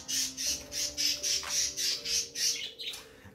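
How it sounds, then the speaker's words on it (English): Pet birds squawk and screech in a rapid, loud run of repeated harsh calls, close by and continuous, as if squabbling with each other. "And my birds, they be killing each other."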